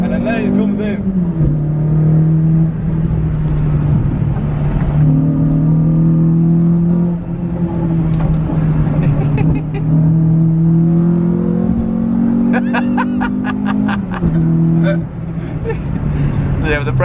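A Renault Clio 172 hatchback drives in under acceleration, its engine note droning and climbing through gears, loud and close, with people talking over it.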